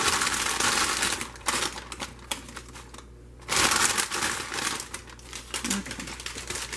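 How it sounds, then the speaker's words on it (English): A whole 8-ounce bag of spinach crinkles and rustles as it is emptied into a pot, with near, continuous plastic crackling, a short pause, then more crumpling. "Probably about a whole bag of spinach that I'm putting in here."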